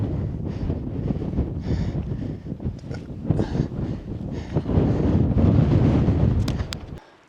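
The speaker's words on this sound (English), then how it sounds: "It's super windy." Strong wind on a high mountain ridge on Kangri 2 in Ladakh roars and buffets the microphone, loud and continuous with gusting swells throughout.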